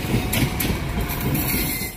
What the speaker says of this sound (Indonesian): kereta api Tegal Bahari sudah melintas di sini